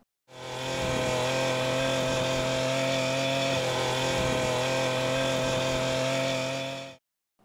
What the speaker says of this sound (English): Oleomac and other popular companies have introduced hedge trimmer, pole pruner and other attachments for this weed cutter machine.